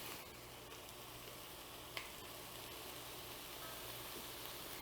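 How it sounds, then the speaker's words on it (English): Corn, beans and squash sauté in a pan for a three sisters salad, giving a steady, close, quiet sizzle with faint crackle throughout and one small clink partway through, no voices. "And now we want to just let it saute for a couple of minutes."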